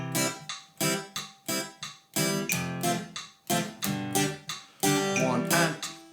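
An acoustic guitar plays reggae-style offbeat upstrums, a steady series of short, choppy chord strokes, each fading quickly before the next. The sound is fairly quiet and close, with no talking.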